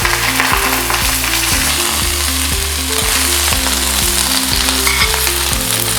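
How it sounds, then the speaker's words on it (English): Extra virgin olive oil sizzles loudly in a smoking-hot pan, a dense, continuous frying hiss with a rhythmic low tone pulsing underneath. "We're gonna go ahead and put some extra virgin olive oil on the pan. Smoking hot, exactly what you want."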